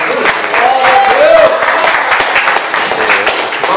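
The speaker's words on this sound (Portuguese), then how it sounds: "Com as palmas para" A church congregation claps during a worship service in Belo Horizonte, dense, sustained clapping near and loud, with a brief tonal vocal sound or whistle rising over it early on.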